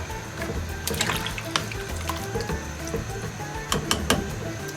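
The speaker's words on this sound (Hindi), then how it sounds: "अभी मैं ये आधा कप और पानी डालती हूँ।" Half a cup of water poured into a pot of chicken and chickpea curry, a steady splashing trickle with a few brief clinks, close and fairly loud, with no talking.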